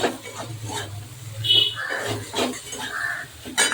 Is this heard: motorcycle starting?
no